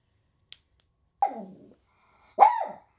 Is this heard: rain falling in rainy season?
no